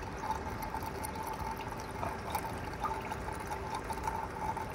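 Water trickling and dribbling steadily through a homemade hydroponic vertical grow tower, a faint continuous running sound with small splashes, no talking.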